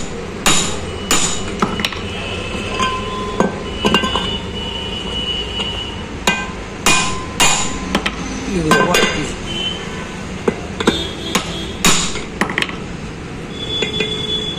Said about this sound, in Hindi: अब इसको हम डालेंगे और देखेंगे क्या सीट का साइज टाइट होता है नहीं होता